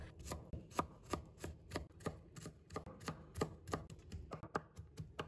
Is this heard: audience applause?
no